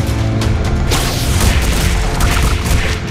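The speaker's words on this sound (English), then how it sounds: "Bomb." A bomb explodes in Scribblenauts Unmasked with a loud, dense rumbling blast that fills the whole span, sustained and booming with crackling debris layered throughout.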